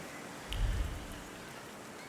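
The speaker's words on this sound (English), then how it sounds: "And now it starts to rain." Soft, steady rain patters with a faint hiss in the video game The Thaumaturge, broken by a brief low thump.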